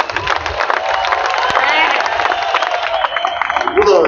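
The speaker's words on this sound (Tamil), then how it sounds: "லோக்கல் இவங்களுக்கு ஒரு இந்த கைத்தட்டல் கொடுங்க" Dense, steady applause and crowd noise from a large outdoor Vanniyar Sangam youth rally of the PMK party, filling the air continuously without a break.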